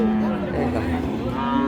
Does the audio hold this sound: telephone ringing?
no